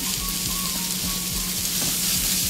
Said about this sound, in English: Give that a final stir.